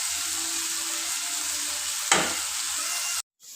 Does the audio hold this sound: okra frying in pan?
yes